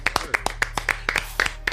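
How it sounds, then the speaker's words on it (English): A handful of people clapping in a small room, about a dozen sharp, close claps in a quick, slightly uneven rhythm. "let's get some claps for that"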